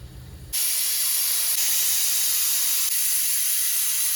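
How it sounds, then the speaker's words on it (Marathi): A pressure cooker whistle on a low gas flame: a loud, steady hiss of steam bursts on suddenly and continues without a break. "कुकरचं झाकण लावून 3 शिट्ट्या काढून घ्यायच्या बारीक गॅसवर."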